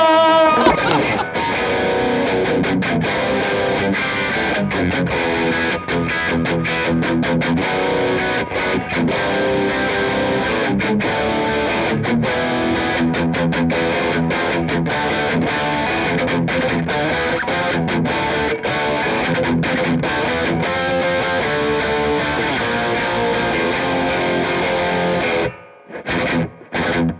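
Fender or Squier Jaguar electric guitar on its bridge pickup through heavy distortion, loud chugging riffs played continuously for nearly half a minute before cutting off briefly at the end.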